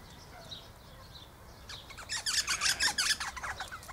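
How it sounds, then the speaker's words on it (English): A parrot gives several harsh, raspy squawks in quick succession over a quiet outdoor background, fairly close and loud. "That's a parrot."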